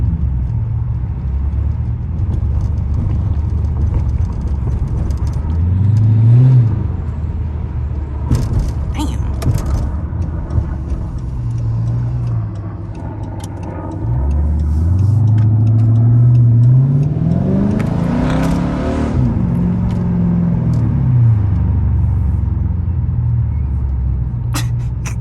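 A straight-piped Dodge Charger R/T engine revs and surges while driving over bumpy roads, loud and close, rising in repeated acceleration swells, with occasional voices talking.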